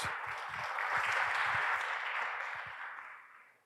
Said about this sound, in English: A round of applause for them as they come up on stage.